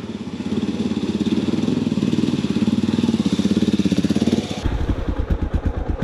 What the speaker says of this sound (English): remember to try to keep the revs high in water.